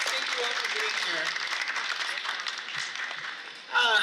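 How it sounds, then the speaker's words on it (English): Sustained crowd applause with dense clapping fills the space, gradually thinning toward the end as a voice begins speaking. "can we get a big round of applause for all of our elected officials and community members up here?"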